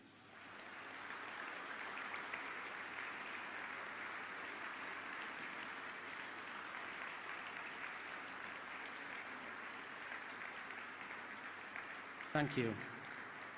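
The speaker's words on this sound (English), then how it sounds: "applaud your family and friends" Graduates at a Leeds Beckett University business graduation ceremony applaud their family and friends, a steady, distant wash of hall-wide clapping that holds evenly throughout, with a brief voice speaking near the end.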